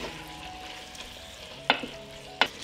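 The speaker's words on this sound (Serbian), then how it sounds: "sve ću to promešati i propržiti zajedno 1 minut" Peppers, tomato and garlic sizzle steadily in a pot while a spoon stirs them, with two sharp scraping clacks against the pot near the end.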